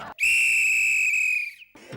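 A sharp, shrill whistle is blown once in a long, steady blast lasting over a second, loud and close, with brief noise just before and after.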